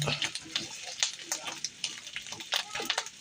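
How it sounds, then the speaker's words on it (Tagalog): A shrimp omelette mixture is stirred as it heats in a pan, giving a soft, steady scraping and light sizzling hiss with small rhythmic knocks, while someone talks at times. "Haluin lang natin hanggang sa uminit ng konti."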